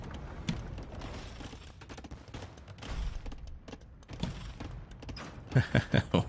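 Bombard cannons firing in a 4v4 real-time strategy battle on the Rage Forest map, heard as several dull booming thumps scattered through the clip, with a quick cluster of louder bursts near the end over a busy background of battle noise.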